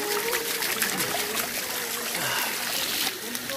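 Cold natural spring water trickles and splashes steadily in the Indian hills, a continuous close bubbling stream with a person speaking over it.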